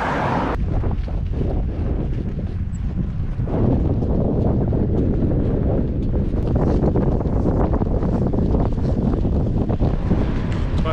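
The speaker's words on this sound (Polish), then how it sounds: "Jeszcze trochę pod wiatr." Strong headwind buffeting a cyclist riding along Iceland's Atlantic coast, a loud, continuous roar of wind across the microphone with rough gusting surges throughout.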